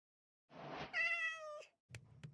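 A cat in the video game Minecraft gives one clear, close meow, followed by a couple of soft clicks.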